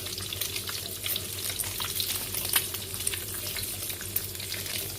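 Two more balls fry in hot oil with a continuous, close crackling sizzle and scattered pops throughout, no speech.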